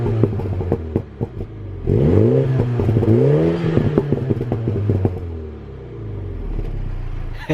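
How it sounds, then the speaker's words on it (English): Car exhaust recorded close behind the vehicle as the engine is revved several times, rising and falling swells over a rumbling idle with crackles between, loud and without talking. "I will put the camera out the back and I will do some revs for you."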